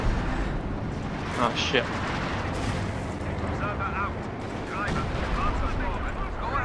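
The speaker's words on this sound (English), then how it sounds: "I'm just gonna keep hitting that area with artillery" Artillery shells and explosions rumble continuously in a Company of Heroes 2 4v4 forest battle, a dense roaring barrage with bursts layered over it, while a player's voice breaks in briefly with a short exclamation.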